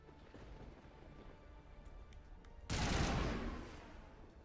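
Gunfire in Mass Effect, a sudden loud burst of shots and crashing impact almost three seconds in, rising out of a quieter rumbling game background and fading over about a second.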